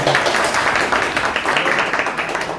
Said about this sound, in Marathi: इतक्या तुम्ही टाळ्या दिलेल्या आहेत